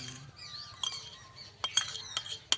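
A spoon clinks and scrapes against a small bowl while slowly mixing nimki batter, with soft stirring and a few sharper metallic taps near the end, fairly quiet and close.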